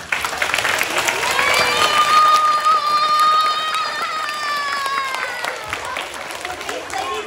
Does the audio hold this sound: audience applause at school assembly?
yes